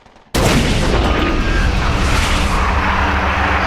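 Artillery opening fire in a video game: after a brief quiet moment a sudden loud boom bursts in and continues as a sustained roaring barrage of gunfire and rumble.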